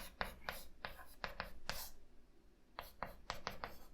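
Chalk or marker strokes on a lecture-hall board during a maths lecture, a run of short scratchy taps and swipes in irregular bursts, fairly close and moderately quiet, with a brief pause midway and no talk over them.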